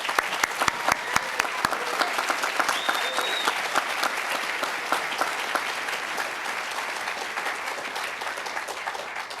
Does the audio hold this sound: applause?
yes